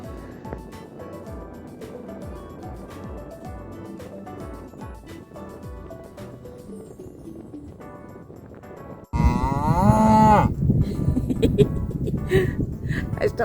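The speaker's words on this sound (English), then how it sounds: "all the cows have now decided to come over and check me out" Cattle on a farm moo loudly and close by after a stretch of background music, with a long, deep low that fills the final seconds.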